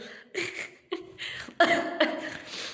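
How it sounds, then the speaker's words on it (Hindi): Several harsh coughs come in separate bursts, close and moderately loud, with short breathy pauses between them. "बहुत खांसी है।"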